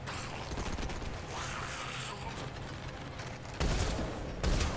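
A big gun firing in the video game Mass Effect 3: a steady roar of heavy fire with crackling blasts, then two louder, deeper booms near the end, with no voices over it.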